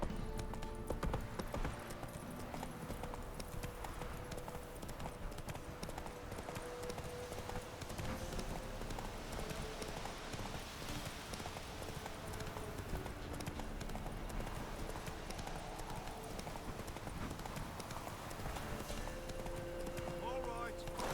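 Horse galloping in The Witcher 3: Wild Hunt, a steady rapid clip-clop of hooves running continuously, faint and close, with voices talking over it at times.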